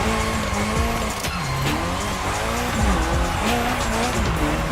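Drift Queen Lancer Evo 6 sliding sideways around an airport course in The Crew Motorfest, engine roaring loud and steady with long tire squeals and shifting revs throughout.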